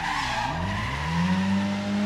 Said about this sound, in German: Wollen wir doch mal driften.